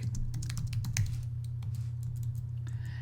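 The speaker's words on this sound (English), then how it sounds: "would be to type in your gender, male," Fingers type on a computer keyboard while entering data into an Excel sheet, a quick irregular patter of close, crisp key clicks over a steady low hum.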